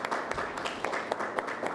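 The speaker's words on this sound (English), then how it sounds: "A big round of applause." Audience at a climate-action capacity-building session claps for a speaker coming on stage, a moderate, fairly even patter of many hands heard from a distance.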